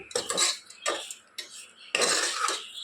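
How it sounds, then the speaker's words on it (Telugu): Mutton pieces tossed with ginger garlic paste, turmeric and salt in a pan, four bursts of close metallic scraping and clatter with short pauses between, loud and clear, with no voices. "ఇప్పుడు మొత్తం అల్లం వెల్లుల్లి పేస్ట్, పసుపు, ఉప్పు పీసుకి పట్టేలాగా మిక్స్ చేసుకోవాలి."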